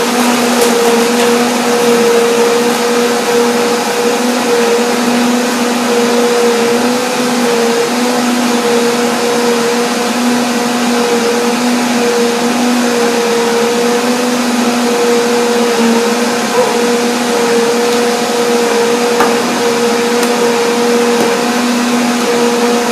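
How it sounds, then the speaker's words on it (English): A blender runs continuously, whirring through Brazil nuts, cinnamon and dates to make nut milk, a loud steady motor drone with a constant pitch and no talking. "So the blender dance for sure."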